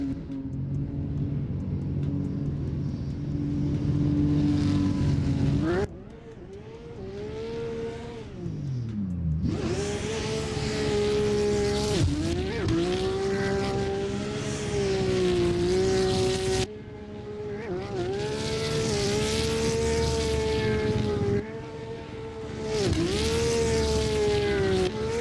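A custom Toyota A90 Supra drifting in a competition qualifying run, the engine screaming at high revs and bouncing off the limiter, with sharp dips and climbs in pitch between gear changes, loud and fairly close, with no talking.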